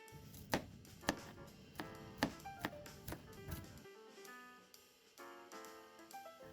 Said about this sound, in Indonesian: 3 siung bawang merah ukuran sedang juga diiris halus